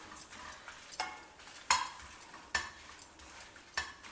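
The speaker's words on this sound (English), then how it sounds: "stir fry them also in the oil till the chillis puff up a little and get roasted" Guntur and Byadagi chillies stir-fried in oil over a low flame, with a spoon scraping and clinking against the pan in quick irregular strokes above a faint sizzle, close and clear, with no voices.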